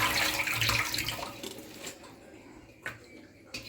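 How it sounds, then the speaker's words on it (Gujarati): Washed coriander drains in a perforated colander, with a loud splash and trickle of water at first that fades into quieter drips, followed by two sharp taps. "પાણીથી બરોબર ધોયા પછી આવા કાણાવાળા વાસણમાં નિતારી દેવાની છે."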